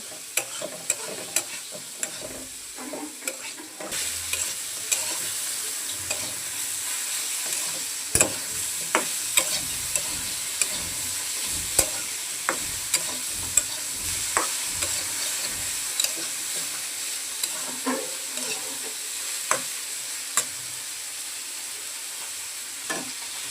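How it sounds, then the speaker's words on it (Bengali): Vegetables for a Bengali koi fish curry with potato and taro fry steadily in a pan, a continuous sizzle broken by regular scrapes and clacks of a spatula stirring throughout, close and clear with no talking. "সবজি সুন্দর করে ভালোভাবে সিদ্ধ হয়ে গেছে। এখন আর একটু ভেজে নামিয়ে নেব।"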